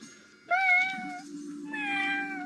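A voice imitates a cat, giving two drawn-out, tuneful meows one after the other, close and clear.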